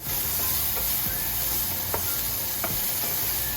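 Chopped onions frying in oil with chilli, garlic and ginger, a dense continuous sizzle close up, broken by a few soft stirring scrapes and taps.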